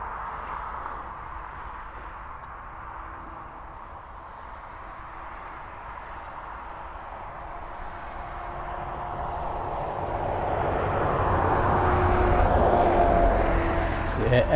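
A C-17 military transport aircraft departs East Midlands Airport, its broad engine roar swelling toward the end over steady outdoor background noise, with people talking nearby.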